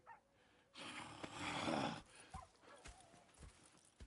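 Horses' hooves clip-clopping in Red Dead Redemption 2, a burst of dense hoof and movement noise followed by scattered individual steps, fairly faint, with a horse snort and no clear talk.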